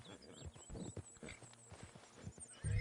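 Horse hooves clip-clop along a trail in the Red Dead Redemption 2 game world, with a horse whinnying nearby and a louder rumble of movement near the end.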